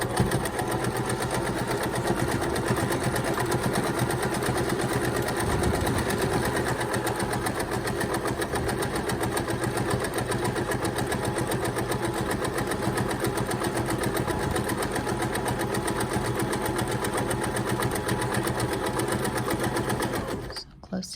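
A sewing machine runs steadily for about twenty seconds, stitching cloth napkin fabric with a dense, fast mechanical whir, close and loud, then stops abruptly at the end.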